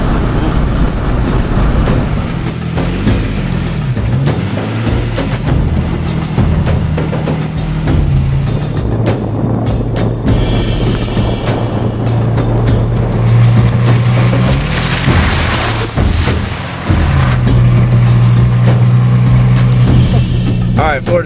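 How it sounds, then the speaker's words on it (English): A four-wheel drive vehicle grinds along a very rough dirt track, its engine droning and rising and falling as it climbs, with rattles and bumps over the terrain and occasional voices mixed in. "This is a very rough track, so we're taking the four-wheel drive back here."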